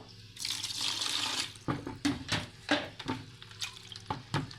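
Water poured over freshly caught live fish gives a splashing pour at first, then a run of irregular wet slaps and splashes, close up, with no talking.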